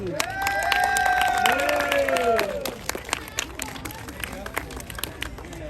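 A crowd at a Honda motorcycle race podium at Bira circuit in Pattaya claps and cheers for the placed riders, scattered claps under an announcer's amplified voice.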